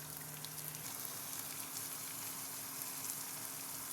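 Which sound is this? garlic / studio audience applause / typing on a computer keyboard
garlic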